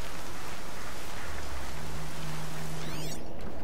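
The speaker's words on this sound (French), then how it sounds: "Ok, et Nicolas, il commence à faire pluie." Steady rain hiss in the video game Horizon Zero Dawn, a constant dense patter with wind, close and fairly loud, with a brief electronic chirp near the end.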